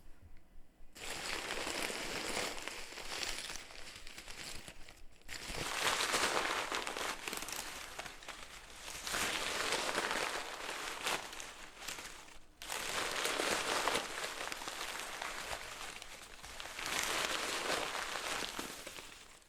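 A bin full of paper crushed rhythmically by hand to imitate ocean waves, giving loud crinkling swells that rise and fall in repeated surges with short quieter gaps between them.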